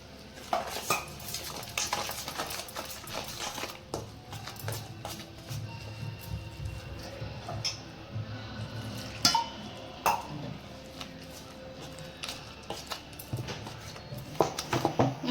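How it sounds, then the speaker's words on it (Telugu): Bajji batter is mixed with water in a bowl by hand, with repeated wet slapping and stirring, and utensils clinking and scraping against the bowl at irregular moments, close and fairly loud. "ఇప్పుడు వాటర్ వేసి కలిపేసుకుందాం"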